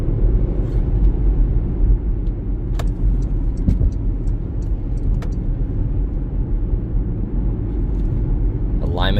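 A 2023 Porsche Macan S in sport mode gives a steady low road rumble of engine and tyres from inside the cabin, with a few faint clicks over the drive.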